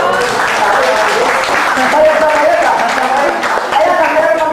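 Audience in a hall applauding to welcome the top earner at a Filipino business orientation, dense continuous clapping at close range, loud and sustained with voices calling out underneath.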